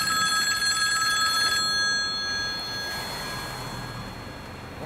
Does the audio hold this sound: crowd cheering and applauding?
no